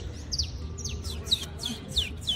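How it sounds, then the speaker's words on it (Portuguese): A saffron finch (canário-da-terra) repeats short, bright chirps about five or six times in quick succession over a low background hum. "Canário da terra, olha lá, ela voou"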